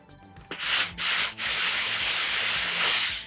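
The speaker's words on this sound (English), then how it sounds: "find the other seam on the sleeve to iron as well" A steam iron presses a jacket sleeve seam on a sleeve board, with loud hissing steam bursts and rubbing strokes of the iron across the fabric, heard without talk.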